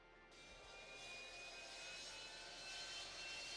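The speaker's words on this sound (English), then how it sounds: "Oh, it's actually a plane engine." A fixed-wing airplane's jet engine roars on takeoff in an anime episode, a steady loud whine and rushing roar building up and holding, with no talking.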